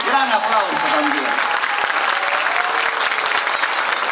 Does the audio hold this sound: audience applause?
yes